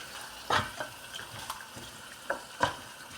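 Chicken biryani meat sautéing in a pan, a low steady sizzle broken by several distinct scraping stirs of a spatula, close and clear with no voices.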